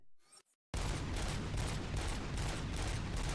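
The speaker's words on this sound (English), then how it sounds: "I can just keep shooting forever" Sustained rapid automatic fire from an infinite-ammo gun in RoboCop: Rogue City, loud and continuous after a brief quiet lead-in, with no break in the stream of shots.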